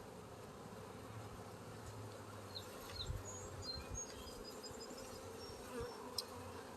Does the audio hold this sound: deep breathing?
no